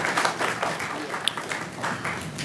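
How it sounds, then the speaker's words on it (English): Applause breaks out in a city council meeting in Portsmouth, Virginia, a short, moderately loud patter of hand claps from the chamber that rises and falls, with faint voices mixed in underneath. "We applaud you."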